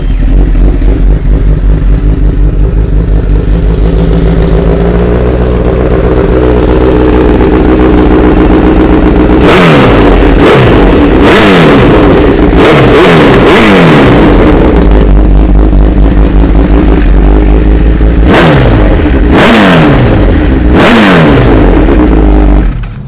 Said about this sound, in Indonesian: mari kita cuba dengar tengok CBR1000 Repsol bunyi Acrobovic macam mana